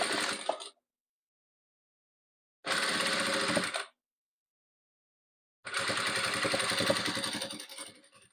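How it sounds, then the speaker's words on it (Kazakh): Sewing machine stitching a patchwork quilt, heard as three separate runs of steady rapid mechanical whirring, close and clear, separated by silent pauses, with no talk. "Үшіншісін тіктім, енді төртінші қабырғасын тігеміз."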